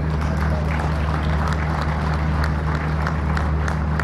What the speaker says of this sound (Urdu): آگے والے اتنی تالیاں بجا رہے ہیں، کو پچھلے والے بھی تالیاں بجائیں بھائی